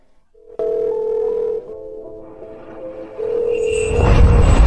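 A mobile phone call rings with a series of electronic tones, steady beeps in a stepped sequence. A rising wash of broadband noise builds and swells toward the end.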